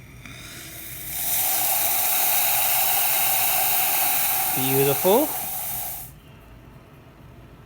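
A La Pavoni lever espresso machine's steam wand, just serviced after failing to build pressure, lets out a loud, steady hiss that cuts in sharply, holds for about five seconds and stops abruptly; a voice speaks briefly near the end.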